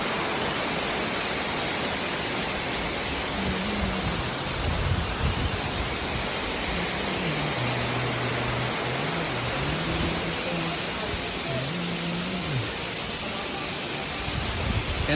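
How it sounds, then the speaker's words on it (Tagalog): Tamaraw Falls in Puerto Galera, Mindoro, pours as a steady, loud broadband roar of rushing water, with a voice briefly humming or talking low in the mix partway through. "Dito lang muna kami sa Tamarao Falls."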